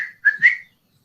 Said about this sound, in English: I had learned how to whistle with my lips